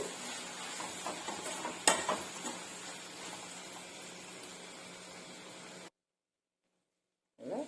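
Chopped onions frying in a pan with salt and dal for an onion and tamarind-leaf curry, giving a soft steady sizzle with a sharp clatter near two seconds, then sudden silence before a brief return.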